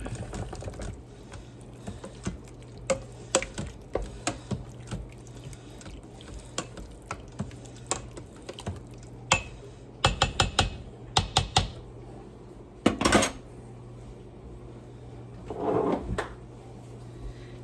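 Spoon scraping and knocking inside a pressure-cooker-style pot as mushrooms are mixed into spaghetti, giving irregular close clatters and clicks over a steady low hum.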